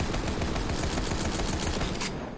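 The Lyuda rifle in Borderlands 3 fires a dense, loud, continuous burst of rapid shots that cuts off near the end, with no talking.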